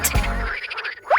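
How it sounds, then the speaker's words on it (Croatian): A cartoon-style frog croaks in a children's farm-animal counting program, a short burst of bright, rubbery croaks with a springy rising note at the end, loud and alone. "6 žaba."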